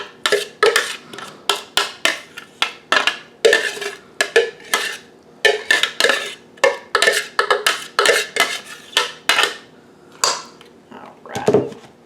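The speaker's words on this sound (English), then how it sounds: "I'm just mixing up my cucumber, onion, and garlic" A utensil scrapes and clinks against a bowl while stirring chopped cucumber, onion and garlic for sweet pickle relish, in a quick irregular series of close, sharp taps and scrapes with brief pauses.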